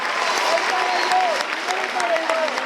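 A crowd at a Falles festival event in Cullera applauds and cheers for the falleras. Dense, steady clapping continues throughout, with raised voices and shouts mixed in.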